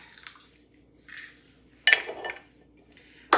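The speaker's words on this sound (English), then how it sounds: "I'm going to go ahead and crack my 8 eggs" Eight eggs cracked one by one into a bowl while making a crustless veggie quiche: a few separate sharp cracks and taps on the rim, each followed by a brief wet squish and drip, fairly close and clear with quiet gaps between.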